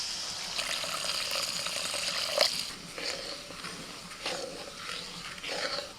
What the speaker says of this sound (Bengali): এবার আমি একটু জল দিয়ে দিচ্ছি।